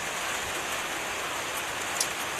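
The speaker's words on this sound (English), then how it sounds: "It is raining and it is dark." Steady rain falls at night over an outdoor Tasmanian football ground during a North Hobart versus North Launceston league match, an even, continuous hiss at moderate level with no voices.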